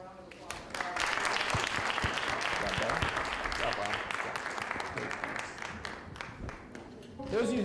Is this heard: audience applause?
yes